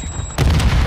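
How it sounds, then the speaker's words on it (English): A friendly mortar strike explodes in a military shooter video game, a sudden loud deep boom that cuts in after a short quiet electronic tone and rumbles on to the end. "Friendly mortar strike on the way."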